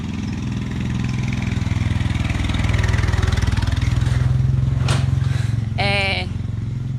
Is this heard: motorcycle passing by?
yes